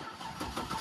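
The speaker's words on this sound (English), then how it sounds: "She started up." Engine of a cheap used car at a dealer-only auction turning over and catching, a brief close rumbling churn that settles into running.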